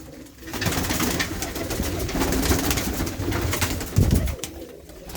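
Pigeons kept inside an old fort from Maharaja Ranjit Singh's era, with steady cooing and fluttering bird sounds throughout and a brief louder burst near the end.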